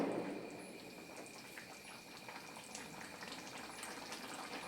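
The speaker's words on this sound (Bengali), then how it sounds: "দেখতে পাচ্ছেন গ্রেভিটা ফুটে উঠেছে" Egg and potato curry gravy bubbling in a pan over high heat, a faint steady simmering crackle with soft popping bubbles throughout.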